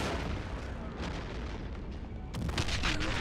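Mortar fire in Call of Duty: World at War during a 2v2 match: a dense, continuous battlefield roar of rumbling blasts, with a louder, sharper burst cutting in near the end.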